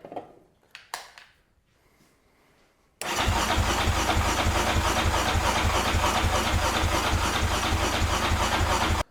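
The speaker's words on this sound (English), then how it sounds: "Let's see if it'll fire up on starting fluid." A neglected Yamaha Raptor ATV engine being started on starting fluid: a few brief cranking bursts and clicks, then the engine fires and runs loud and steady up close at a constant idle-like roar.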